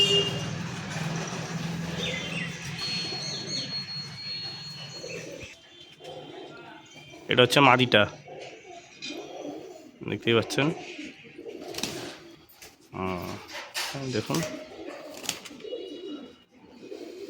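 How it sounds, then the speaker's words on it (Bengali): Pure Dasu line pigeons, including a female flying breed, coo in scattered bursts through a busy background with a low engine-like rumble early on, while someone talks over them. "পুরো পিওর দাসু লাইনের পায়রা আছে"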